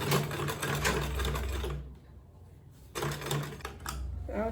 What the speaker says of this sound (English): I'm just going to sew just close to the zipper teeth